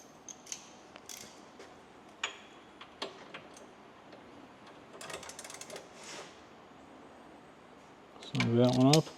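A hand ratchet tightens bolts on a 2024 Harley-Davidson Road Glide, with scattered close clicks and bursts of rapid ticking in a quiet garage, and a voice speaking near the end.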